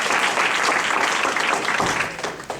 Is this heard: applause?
yes